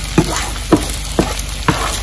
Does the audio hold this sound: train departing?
no